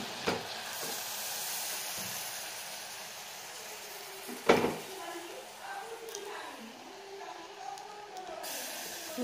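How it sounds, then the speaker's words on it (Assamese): Milk tea with sugar and tea leaves is stirred in a pot as it heats and starts to stick, giving a steady bubbling hiss with a sharp scrape near the middle, and a voice speaks over it. "ভালদৰে লৰাই লওঁ, অলপ লাগি ধৰিছে মানে।"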